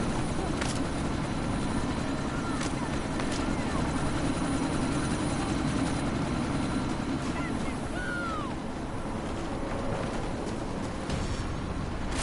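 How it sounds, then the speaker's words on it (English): A helicopter in the Deus Ex video game whirs and roars steadily as it prepares to take off, a constant loud rotor drone with some brief sharp clicks and sweeps over it. "That chopper's about to take off!"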